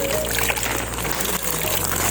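Water from a farm's unlimited supply line, piped down from higher ground, pours in a steady continuous splashing stream, fairly loud and close, with no talk over it.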